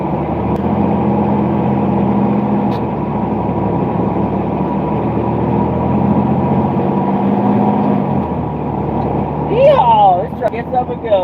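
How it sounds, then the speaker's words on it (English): A big dump truck's heavy diesel engine rumbles loudly and steadily nearby, then its note shifts as it pulls away, with a brief squeal near the end. "This truck gets up and goes."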